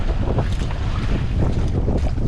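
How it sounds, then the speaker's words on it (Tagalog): Strong southwest monsoon wind blowing at sea over a fishing boat off Palawan, a loud continuous buffeting roar battering the microphone, with low rumble and splashing water underneath. "lakas ng habagat mga lods lumakas ngayong umaga"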